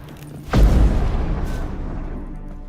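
A single hollow thud from knocking on a wooden barrel in the video game The Witcher 3, heavy and close, with a low resonant tail that fades over the following seconds.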